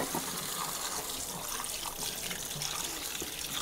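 Tap water runs in a steady, close splashing stream while wood ear mushrooms are washed under it, with no pauses.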